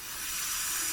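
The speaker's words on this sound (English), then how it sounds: "Now it's empty, blowing air through the system, and we're going to blow it out again. 50 psi." Compressed air at 50 psi hissing steadily through the emptied transmission cooler lines of a 1996 Chevrolet K1500 pickup, a close, even broadband rush lasting about a second.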